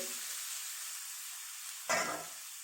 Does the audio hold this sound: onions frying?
yes